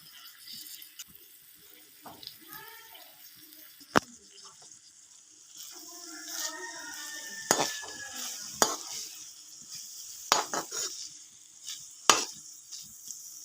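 Coriander goes into a frying karela, onion and tomato dish, with a soft sizzle under scraping and clinking stirring strokes that grow sharper and more frequent toward the end; a voice is faintly audible.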